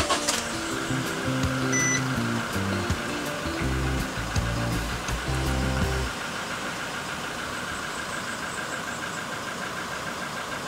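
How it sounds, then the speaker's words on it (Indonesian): A car engine holds a raised, steady idle while hooked up to charge a weak battery, producing a constant mechanical hum with a fluctuating tonal whine for the first six seconds before settling into a flatter drone. "Kita diamkan selama 5 menit dengan RPM yang agak tinggi."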